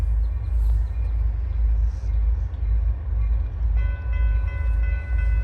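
A heavy freight train rumbles past close by with a deep continuous roar, and a steady horn-like tone joins in near the end.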